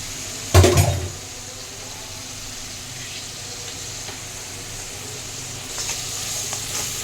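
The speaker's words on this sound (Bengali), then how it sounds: "পেঁয়াজ বাটা এখন তেলে আমি কষাবো।" Onion paste and ginger-garlic paste hit hot oil in a home kitchen with a sudden loud sizzling burst that quickly settles into a faint, steady frying hiss, swelling slightly again near the end.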